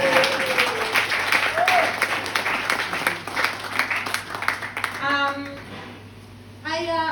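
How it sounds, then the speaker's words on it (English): Stand-up comedy club audience applauding and cheering loudly after a punchline, a dense wash of clapping that fades toward the end before a voice briefly cuts in. "Thank you for that applause."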